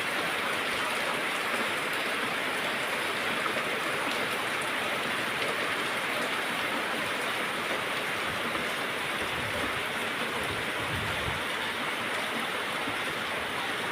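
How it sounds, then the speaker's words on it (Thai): Steady rainfall pours down outdoors onto trees and leaves, a dense, even hiss of drops that stays constant throughout with no voices. "ฝนตก"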